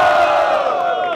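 A crowd at a Brazilian rap battle, the Batalha da Aldeia semifinal, cheers loudly for the rapper Refel during the vote, a sustained roar of shouting voices that holds for the whole brief moment.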